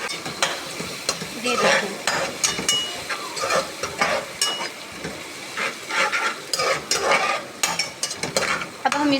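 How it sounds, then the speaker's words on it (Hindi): Garlic paste fries in a pot for beef pulao while being stirred, with bursts of scraping and sizzling against the metal and someone talking briefly over it. "अब मैं ये लहसुन डाल रही हूँ पेस्ट इसका"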